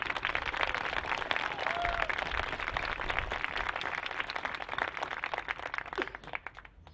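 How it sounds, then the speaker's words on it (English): A crowd at a 2021 high school graduation applauds with dense, lively clapping that holds steady and then thins out toward the end. "Please help us celebrate that with a big round of applause."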